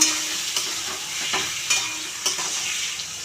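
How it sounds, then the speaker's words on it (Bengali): Mutton pieces frying in a pan with onion and bay leaf, a steady bright sizzle with a few sharp scrapes and clacks as the meat is stirred, close and without speech. "এবার দেব খাসির মাংস। ভালো করে নাড়াচাড়া করে নেব।"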